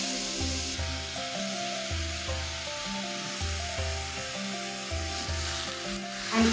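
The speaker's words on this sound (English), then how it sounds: "Let's quickly add potatoes." Peeled one-inch potato cubes tipped into a hot pan of spices, giving a steady soft sizzle and frying hiss under a background melody, with no talk over it.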